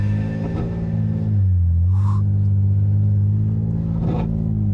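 A Tarpan Szerszeń pickup works through heavy off-road sand, its engine a deep, close, continuous rumble that swells into a brief rev midway before settling back.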